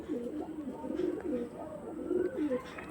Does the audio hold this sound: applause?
no